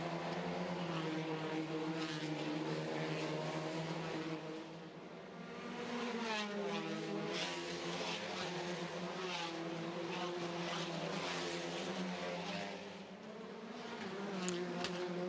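Touring cars racing at WTCR Macau: a steady high-revving engine drone with shifting pitch sweeps as cars pass, continuous and moderately distant, no voices.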